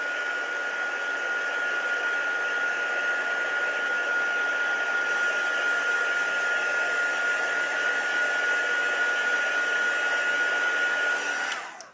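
Hair dryer blowing on a boot to dry freshly applied primer, a continuous loud whine and rush of air held steady for about twelve seconds before it is switched off.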